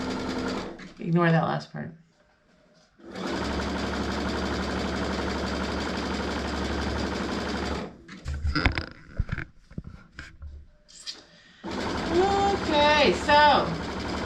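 A sewing machine stitches a tote bag seam in two long, steady runs of rapid mechanical whirring, with someone talking between and over the stitching.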